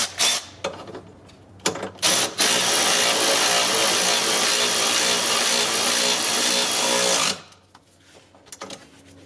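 Continuous mechanical whirring of a power tool or impact wrench driving an 18 mm strut bolt on a 2012-2016 Honda CR-V, loud and close for about five seconds, with short clicks before and after.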